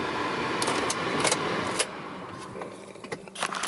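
A BMW 740iL E38 sedan idles with a steady, moderately loud hum, broken by sharp clicks and rattles like jangling keys or handling inside the car.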